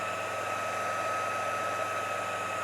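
A hair dryer blows steadily on glass being prepared for laser engraving, a close, constant whooshing whine with no talk.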